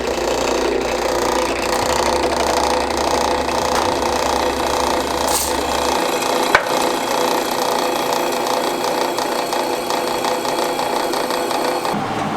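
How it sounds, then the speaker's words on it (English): A steady, loud power-tool whine of a drill boring a pilot hole into a metal shifter part for a Honda K-swap, with a grinding, rattling edge and a brief sharp click midway. "So drill my pilot hole."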